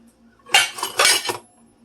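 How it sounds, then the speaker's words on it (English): Dishes clink and clatter as they are stacked onto a tall kitchen shelf, a short close cluster of two or three hard knocks, with no talking. "trying to reach the tall shelf to put away dishes"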